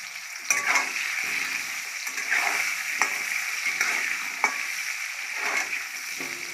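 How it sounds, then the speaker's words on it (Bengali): Potatoes fry with turmeric in a pan, giving a steady close sizzle broken by several sharp scrapes and clacks of a spatula stirring through them at irregular intervals. "আলুটাকে লাল লাল করে ভেজে নেবে। এই যে হলুদ দিয়ে দিয়েছে"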